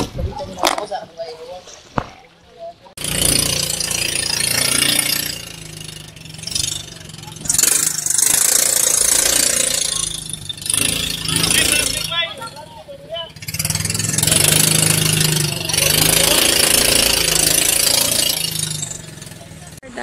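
A bangka boat's engine runs steadily near an island beach, loud and rough with surging bursts, while people talk over it.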